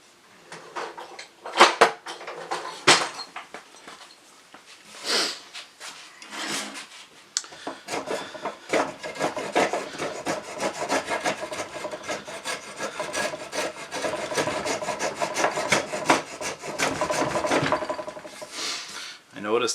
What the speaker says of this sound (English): that one I'm going to do with a spoke shave.